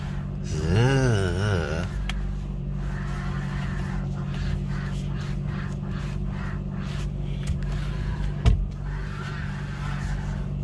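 Inside an idling car, a low engine hum runs under a rough, gritty, sandpaper-like scraping from the steering wheel as it turns, with a couple of faint clicks.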